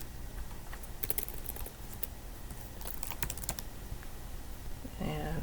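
Keys clatter on a computer keyboard as a file name is typed in RStudio, a fast irregular run of close, crisp clicks, with a brief voice starting at the very end.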